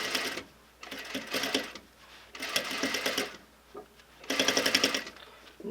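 Sewing machine stitching an invisible zipper next to welt cord: rapid mechanical needle chatter in four bursts of one to two seconds, with short pauses between as the fabric is readjusted, close and fairly loud.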